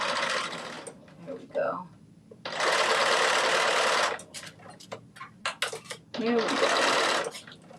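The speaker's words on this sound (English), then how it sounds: "Back stitch, and actually do a little more than the back stitch." A home sewing machine making a dress from a New Look 6288 pattern whirs in loud bursts as it backstitches, several runs separated by pauses, with someone talking briefly between them.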